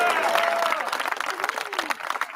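Applause and scattered cheering from a crowd, with a voice briefly audible at the start, the clapping thinning slightly toward the end.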